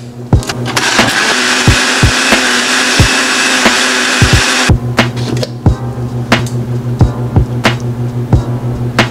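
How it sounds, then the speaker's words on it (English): A blender blends a birria taco sauce base to smoothness, a loud continuous whirring roar for several seconds that cuts off abruptly, followed by a series of sharp knocks and taps. "next we're just gonna blend our base up until it's a nice smooth consistency"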